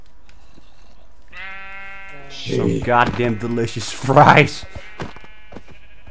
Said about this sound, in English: Those sheep are trying to get away